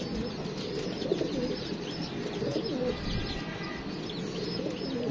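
Pigeon pairs kept for sale coo continuously at close range, soft overlapping throaty calls forming a dense, steady murmur with occasional chirps and no talk.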